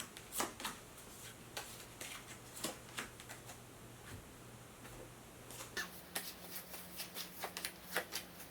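Tarot cards are shuffled and drawn, giving quiet, close, irregular flicks, riffles and light taps over a low background hum.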